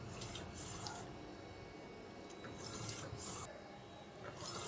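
A DTF printer with a white ink circulation system running a print job, a faint steady mechanical whir and hiss with soft recurring swishes of the print carriage passing back and forth.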